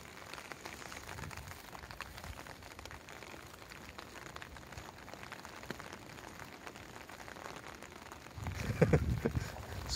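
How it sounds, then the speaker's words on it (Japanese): Heavy rain falls steadily outdoors during a dog walk, a soft continuous patter on surfaces with some wind, moderately faint, swelling louder near the end. "なかなか辛い雨やで、これ。"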